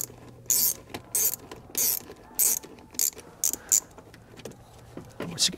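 A hand ratchet loosens an 8mm clamp on the air cleaner housing of a GM truck or SUV. Its quick clicking bursts repeat about a dozen times, close and crisp, with short pauses between strokes.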